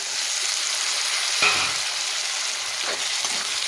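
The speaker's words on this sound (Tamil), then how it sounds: "தக்காளி நல்லா வதங்கி கிரேவியாக வரட்டும்" Tomatoes softening into gravy in a pan for a green turkey berry (sundakkai) kulambu give off a steady, fairly loud frying sizzle, with one brief clatter from a utensil partway through and faint stirring scrapes near the end.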